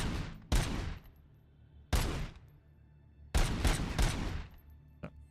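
Gunfire in RoboCop: Rogue City at a target practice range, loud sharp shots in separate bursts with short gaps, one quieter final pop, no talking.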